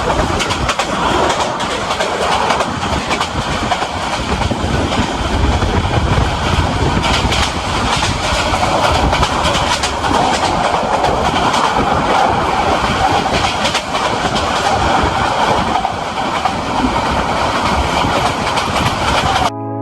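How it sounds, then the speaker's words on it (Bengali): Train running on rails heard from inside a carriage on a trip toward Kamalapur railway station, a loud continuous rumble with clickety-clack rhythm throughout, no talking. "ট্রেনে চড়ে অনেক ভালো লাগছে"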